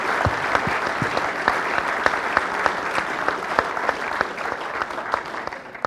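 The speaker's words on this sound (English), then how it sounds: "Just give them one more round of applause," Audience members at a football coaching conference give the guests a round of applause, with steady, dense clapping from a fair-sized crowd that holds for several seconds.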